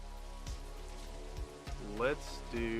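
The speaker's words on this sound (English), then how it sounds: "Can we turn off the rain, by the way?" Video game rain ambience as a constant soft drizzle, with people talking and a few knocks heard over it.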